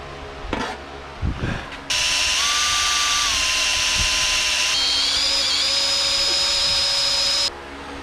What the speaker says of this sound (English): then I will drill and tap it.